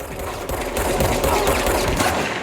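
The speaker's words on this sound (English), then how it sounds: "Here's some combat. Here's some shoot-bangs." Rapid gunfire in combat from the video game Control, dense bursts of shots firing continuously and loudly over a busy game backdrop with no talk.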